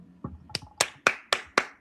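A few people clap in a short burst of about six sharp, evenly spaced claps that build from a soft first one, close and clear with nothing else going on.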